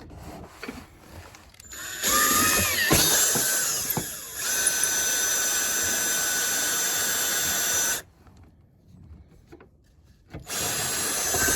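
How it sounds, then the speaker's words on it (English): Power drill boring holes up through the underside of a loose vehicle running board, where the old fasteners fell out. The whine comes in a few sustained runs with short pauses, close and loud, with no talking. "I'm just going to drill a couple holes up through the bottom where the existing ones fell out"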